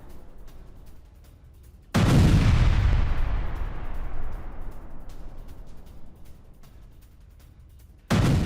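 An Israeli strike on Hezbollah positions lands as one heavy, close blast at about two seconds. Its long roar slowly fades over several seconds, and a second explosion cuts in sharply near the end.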